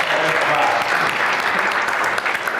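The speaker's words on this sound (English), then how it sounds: "Let's give you a round of applause" Audience applause at a carbon removal conference panel, a steady, full burst of many hands clapping together, near and fairly loud, sustained throughout with no voices over it.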